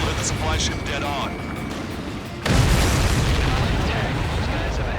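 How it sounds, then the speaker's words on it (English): A missile strikes a supply ship in the combat flight game Ace Combat 7, setting off a sudden loud boom midway that swells into a sustained rumbling roar under dense game audio and voices. "The missile hit the supply ship dead on."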